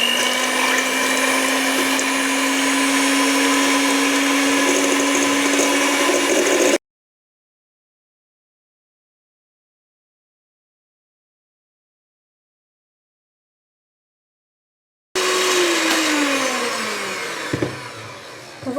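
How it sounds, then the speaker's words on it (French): Electric mixer whisking large egg whites with a pinch of salt into stiff peaks for a quick chocolate mousse, a loud steady whirring drone that cuts out into silence midway, then returns with the motor pitch sliding as it winds down. "Et je mélange jusqu'à ce que les blancs d'œufs se transforment en neige."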